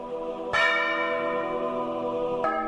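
An old historic bell strikes twice, a loud struck tone with long ringing overtones that sustain between blows, heard close and alone in a mountain setting.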